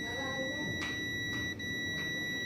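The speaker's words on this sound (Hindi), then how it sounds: "तो यहाँ पे जो मीटर को बीप मोड पर लगा देते हैं।" A digital multimeter set to continuity beep mode emits a steady high-pitched tone while a mobile phone ringer speaker is tested, with faint clicks of the probes breaking in every half second or so.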